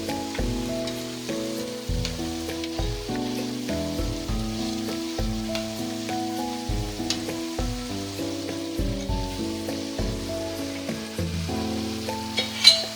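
Aloo palak pakoras frying in hot oil as they are flipped to the second side, a steady close sizzle with repeated soft stirring knocks and scrapes throughout.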